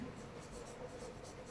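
A marker or chalk scratches across a board during a physics lesson in short, faint strokes that repeat over a low background hum.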